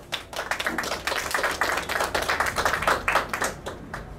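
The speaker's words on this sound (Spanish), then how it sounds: "que recibimos con fuertes palmas, por favor." A crowd claps vigorously to welcome a school administration official at a formal educational ceremony. The clapping is dense and sustained, with sharp, close hand claps layered over a continuous roar of more distant clapping, and no speech.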